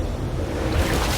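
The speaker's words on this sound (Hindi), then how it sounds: "ये आई बड़ी लहर।" A big ocean wave rolls in against the rocks of a small island, a brief loud wash of surf mixed with gusty wind rumbling on the microphone.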